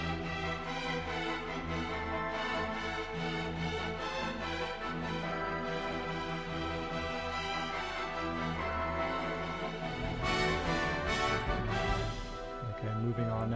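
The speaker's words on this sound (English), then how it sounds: "this whole section with the strings playing the melody and supported by brass and wind sounds like this" Full orchestra with strings carrying a sweeping heroic melody over sustained brass and woodwind support, loud and continuous, swelling near the end with bright cymbal-like wash.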